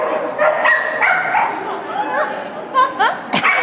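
A happy dog yips, whimpers and barks in short excited bursts during a USDAA agility run, close and lively, mixed with people talking and chatter around the course.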